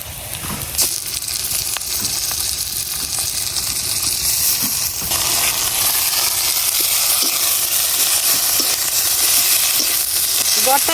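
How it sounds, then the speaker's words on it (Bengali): Chopped onions and a mashed paste of cauliflower leaves with dried shrimp fry and are stirred in mustard oil, giving a steady close sizzle with scraping stir sounds throughout. "এই পেঁয়াজ আর সরিষার তেলটার মধ্যে একটু ভালো করে নাড়াচাড়া করে নিলে কিন্তু রেডি হয়ে যাবো"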